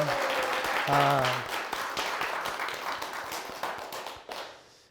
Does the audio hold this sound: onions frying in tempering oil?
no